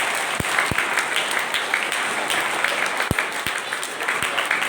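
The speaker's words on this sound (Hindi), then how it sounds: "नीतू मैम और अनिल सर के लिए भी जोरदार से तालियां बजाइए।" An audience at a school Children's Day celebration claps warmly for two teachers, a dense, even patter of many hands punctuated by a few sharp thumps on the microphone.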